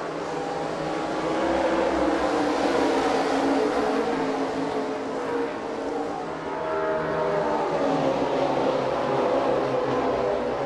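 A pack of NASCAR stock cars roars at Daytona during the 2012 Coke Zero 400. The dense engine drone is steady and loud throughout, with no talk over it.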